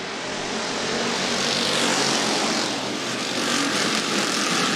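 Sportsman race cars roar together on a speedway as a heat race starts, a loud, dense engine drone that swells and holds steady with no break.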